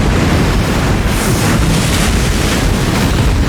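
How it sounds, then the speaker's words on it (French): Wind-driven waves churn on a lake in Iceland, a steady, loud roar of water and gusting wind buffeting the microphone with no pauses. "C'est censé être un lac ça. Mais au fond il y a des vagues."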